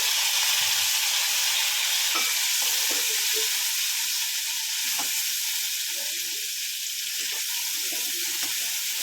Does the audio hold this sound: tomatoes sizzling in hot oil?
yes